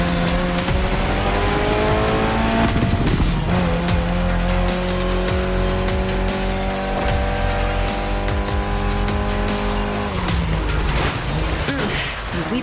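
A Mitsubishi Lancer Evolution, the final-generation Evo, races in The Crew Motorfest, its engine howling loud and close through rising and falling gear pulls, with tire squeal and skidding through corners and a brief shift dip near the end.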